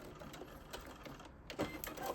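A sewing machine runs quietly while back stitching a seam, making a faint, steady rhythmic whir with light ticking pulses.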